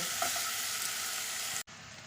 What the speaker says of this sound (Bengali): চিংড়ি আর চিকেনটা কিছুক্ষণ নেড়ে নিয়েছি